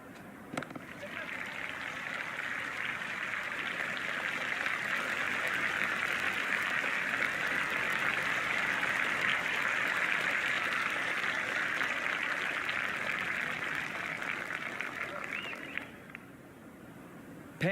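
A large cricket crowd roars steadily at an India vs New Zealand T20 match, a dense, sustained wash of cheering and noise that holds loud throughout and eases slightly near the end.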